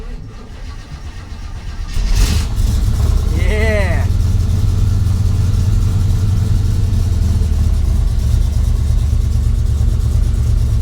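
A thirty-year-old car engine cranks and starts, then settles into a loud, steady rumbling idle that runs on close by, with a brief high whine just after it catches; someone speaks briefly.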